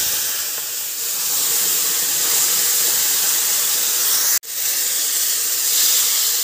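Young jackfruit pieces added to hot oil with fried potatoes, giving a loud, even hiss of frying that holds steady throughout apart from one brief cut.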